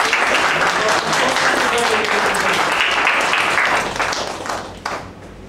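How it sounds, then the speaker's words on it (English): An audience at a speech contest claps loudly and continuously for a speaker, a dense crowd applause that holds steady, then thins and tapers off toward the end. "Let's give her a big round of applause."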